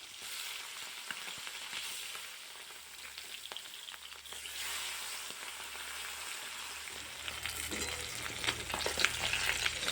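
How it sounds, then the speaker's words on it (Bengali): Small hilsa fish fry in oil with a soft, continuous crackling sizzle that grows slightly louder toward the end, close and without voices. "মাছগুলোকে আমি 2 ভাজে করে ভেজে নেব।"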